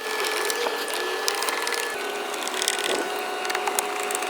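Bolts being refitted inside a 2012–2014 Jaguar XF car interior, with a ratchet clicking rapidly and continuously nearby in a dense, steady mechanical chatter.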